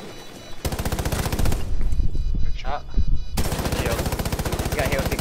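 Rapid automatic gunfire in the tactical shooter Rainbow Six, loud and close, in long sustained bursts with a short lull in the middle where a voice speaks over the action.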